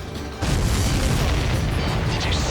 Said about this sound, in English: The missile hit its target. Everybody, keep a safe distance to avoid getting caught in the explosion.